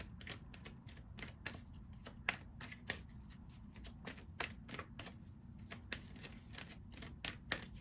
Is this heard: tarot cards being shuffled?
yes